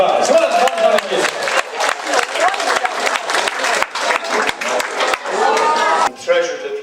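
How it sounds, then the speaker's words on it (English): Audience applause at a show: a dense, loud burst of many hands clapping with some cheering, sustained for several seconds before tapering off, with a voice speaking over it. "Give a really big round of applause."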